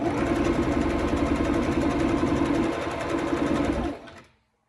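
A sewing machine stitches elastic onto the hem of a stretch fabric skirt for dancewear. It runs loud and steady for about four seconds, up close with no talk, then winds down and stops.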